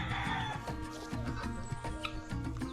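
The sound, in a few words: chickens clucking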